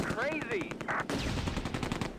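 Medium machine gun fire in the Close Combat World War II strategy game, a steady run of rapid shots with battle noise behind it and some pitched whistling sounds early on.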